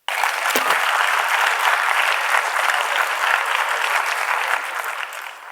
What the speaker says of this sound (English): Let us welcome him with a huge round of applause.